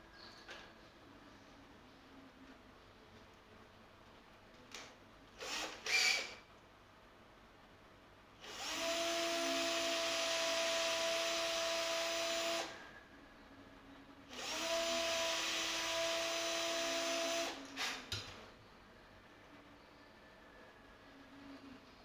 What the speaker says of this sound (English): let's get a bigger drill bit